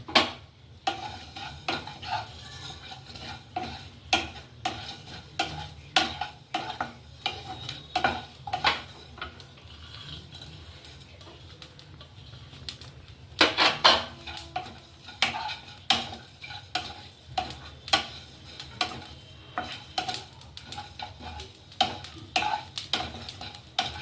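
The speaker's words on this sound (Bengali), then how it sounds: "এবার শুকনো খোলায় আমি ধনে আর জিরে দিয়ে ভাজা করছি" Coriander and cumin seeds dry-roasting in a dry pan are stirred with a utensil, making repeated close scraping clicks at a fairly steady rhythm over a soft background hiss, without talk.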